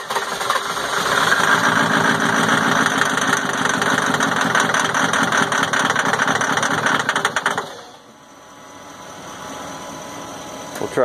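An old engine runs loud and steady with a rhythmic knocking chug for several seconds, then drops off abruptly to a low fading hum as it dies.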